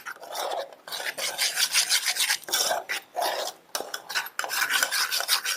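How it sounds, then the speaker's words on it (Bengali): Spices are ground together with raw mustard oil into a paste, producing repeated rough rasping and scraping strokes in an uneven rhythm, close and fairly loud with brief pauses between bursts. "এবার সমস্ত মশলাটাকে আমি এবার একসাথে পেস্ট করে নিচ্ছি।"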